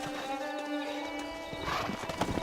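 Wild horses in the Red Dead Redemption video game: hooves clip-clop in quick uneven beats while a horse neighs and whinnies, over a sustained tonal game soundtrack, moderately faint and without speech.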